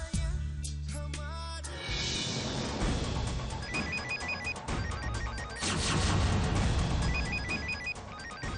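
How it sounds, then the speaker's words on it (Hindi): A telephone rings in a TV drama scene, with repeated bright electronic ring bursts over a busy backdrop of music and noise, fairly loud and continuing throughout. "शायद ये पिया का ही फोन है।"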